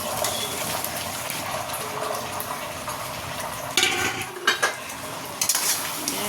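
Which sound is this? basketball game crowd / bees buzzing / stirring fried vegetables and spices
stirring fried vegetables and spices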